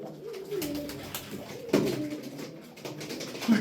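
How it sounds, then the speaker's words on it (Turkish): Pigeons coo steadily and close by, with a sudden burst of wing flapping partway through. "gördünüz zaten kuşlar oyunlu. Patır patır oynuyorlar"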